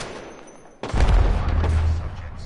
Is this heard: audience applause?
no